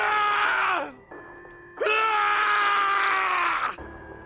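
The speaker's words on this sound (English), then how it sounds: "His screams echoed through the incineration chamber, full of rage and despair." A man screams in rage and despair in the video game 999, set in an incineration chamber: two long, loud, anguished howls separated by a short pause, with no other voices.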